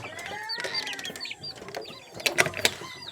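Molting bantam Serama chickens clucking and calling close by, busy overlapping bird sounds with a few sharper squawks near the end, no talking.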